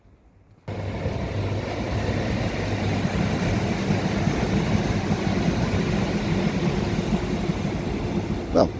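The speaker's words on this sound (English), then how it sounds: "couldn't see it, but we could hear it. That was a train." Train passing nearby but out of sight along a countryside footpath, a steady broad rumble and rushing roar that begins abruptly and holds at a constant level for several seconds.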